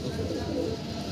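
A female Golden Sweet pigeon coos softly and briefly, mixed with nearby voices.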